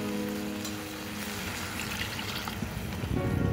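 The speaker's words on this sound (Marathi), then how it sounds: "जरासा पाणी सुटल्यावर त्याच्यात अजून थोडा पाणी घालायचा" Water is poured into chicken kheema in a hot pan, a steady trickling flow that swells into a louder splash and sizzle near the end.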